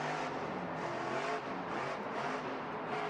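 A monster truck engine revs hard for a power wheelie at a Monster Jam arena event in Indianapolis, a loud, sustained roar with rising and falling tones heard from a distance over crowd ambience.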